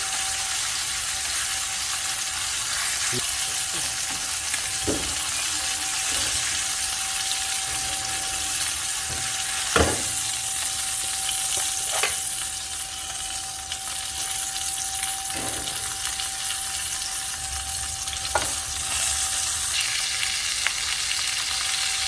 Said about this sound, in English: This is cooking them on the back now a little bit, just to render down that fat and get it nice and crispy for eating